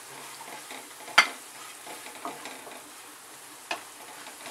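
Pounded ginger, garlic and dried coconut roasting in a pan give a soft, steady sizzle, broken by a few sharp scrapes of a spoon against the metal.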